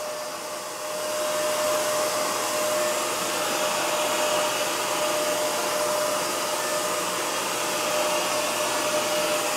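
A Shark CarpetXpert StainStriker upright carpet cleaner runs with a loud, steady motor whine and suction hiss, with a constant tone over broad noise that swells up after a quieter first second and holds without talk.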